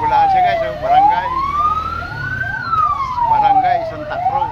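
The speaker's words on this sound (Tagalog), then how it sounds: "Ingay, ingay. Ambulansya guys," A wailing ambulance siren sweeps up and down in pitch, loud and close, with traffic noise and muffled voices underneath.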